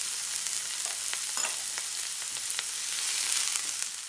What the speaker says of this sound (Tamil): ஆனியன் ஆட் பண்ணி நல்லா வணங்கட்டும்